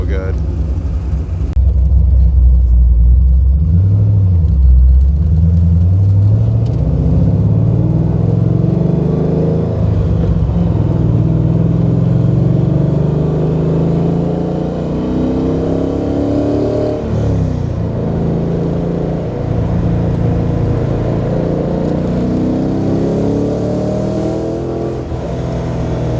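Mazda RX-7 with a rotary engine revs and accelerates, its rough, buzzing drone climbing and falling through repeated pulls, loud from inside the car.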